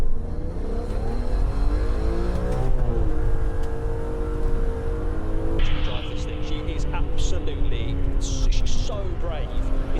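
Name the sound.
BMW M3 car being driven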